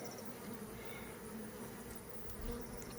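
Honey bees buzz steadily at an open hive during a brood-frame inspection, a dense continuous drone that holds level and fills the scene with no talking.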